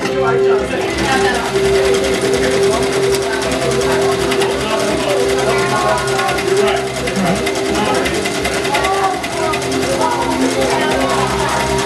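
A commercial embroidery machine at a sign shop open house stitches a large design with a steady, loud, rapid mechanical whirr and needle hum, while people chat around it.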